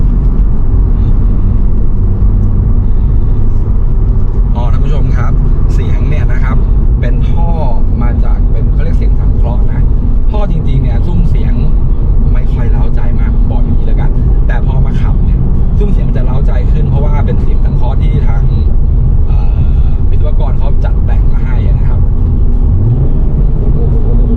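A Honda Civic Type R with a manual gearbox drives on a track, its engine droning steadily and loud throughout, with a continuous low rumble and road noise.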